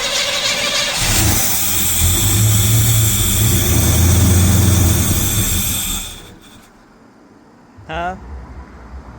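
A Chevrolet C10 truck with a newly installed carburetor cranks and roars to life loudly, running hard for several seconds before cutting off abruptly, followed by a brief sputtering crank and quiet; voices talk over it.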